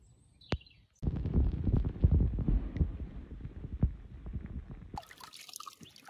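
A tench is released back into calm water on a large lake in the Landes, with a brief knock, then a close splashing, dripping burst of water that gradually fades.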